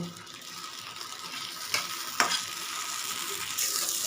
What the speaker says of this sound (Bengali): এটা এখন হালকা ভেজে নেব